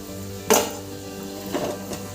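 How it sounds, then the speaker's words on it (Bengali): A metal lid is set over a wok of frying potatoes and spices, landing with one clear clank, followed by softer rattles as it settles over a faint background sizzle. "একটা ঢাকনার সাহায্যে কড়াইটা ঢেকে দিলাম"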